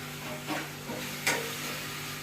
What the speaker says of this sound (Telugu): ములక్కాడ ముక్కలన్నీ కూడా చక్కగా యాడ్ చేసుకుందాం